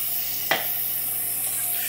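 Onions hit a hot pan of extra virgin olive oil with a sudden sharp sizzle, then settle into a steady frying hiss, close and loud with no voices.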